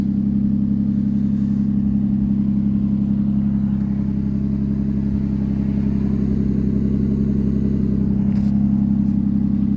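A 2010 Ford Fusion Sport AWD with a Borla exhaust idles steadily and close by, a low, even rumble that holds for about ten seconds with a slight swell near the end, with no talk.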